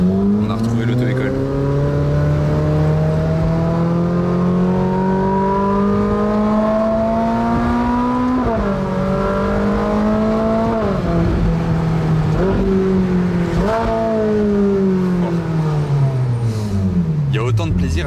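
Orange Ferrari supercar engine revving through downshifts and acceleration, a loud, close, continuous engine note rising in pitch with sharp drops between gears, with people talking over it.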